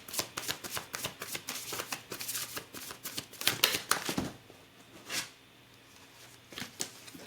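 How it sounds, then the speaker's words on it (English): A tarot deck being shuffled by hand, a rapid run of crisp riffling card flicks that fades out partway through, leaving a couple of isolated soft taps near the end, close and quiet with no talk. "I have another tarot deck, and I kind of want to pull a clarifying card for the Justice card"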